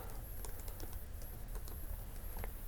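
Rapid, uneven keystrokes on a computer keyboard while code is entered, close and clear, a run of light clicks with short pauses and no talking.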